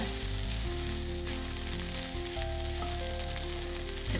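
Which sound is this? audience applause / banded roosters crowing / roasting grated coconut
roasting grated coconut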